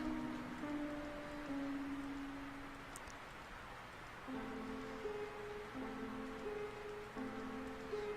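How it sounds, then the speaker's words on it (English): Steady rain effect from the horror adventure game Scratches, a soft continuous hiss that stays level throughout, with quiet tonal game music notes layered over it. "I gotta say, I'm a fan of the rain effect, by the way."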